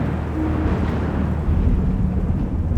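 Deep, steady rumble of thunder rolling on continuously, loud and low, with a broad swell toward the end and possible rain or wind noise underneath, no voices.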